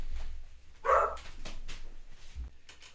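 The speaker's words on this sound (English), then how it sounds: "Let me go tell my puppy to be quiet." A puppy lets out a single sharp bark in the background, brief and somewhat distant amid quiet room noise.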